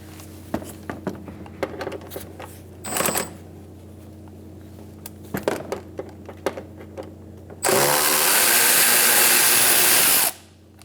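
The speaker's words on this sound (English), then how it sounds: "We're going to use a T27 and remove our torque bolts." A T27 bit on a power driver removes torque bolts on a 2012-2018 Ford Focus 2.0L, with scattered metallic clicks and handling noises, then a loud, steady whir for about three seconds before it stops abruptly.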